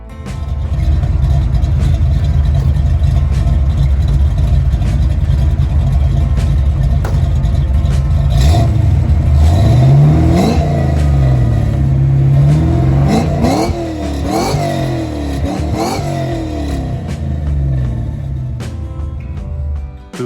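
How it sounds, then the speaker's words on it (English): A 1964 Mercury Comet engine revs hard through its exhaust, rising and falling in several loud bursts before settling back toward idle. "I'm sure you guys want to hear how this exhaust sounds"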